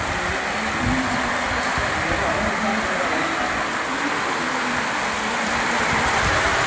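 Heavy midday rain falls on a village, a loud, unbroken roar of water drumming close by with no pause.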